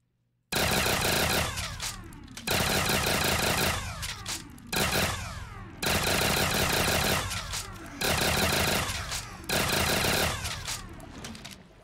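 An automatic turret in a zombies video game map fires long, loud bursts of rapid gunfire. Five sustained volleys are separated by short gaps, and metallic mechanical clatter trails after each one.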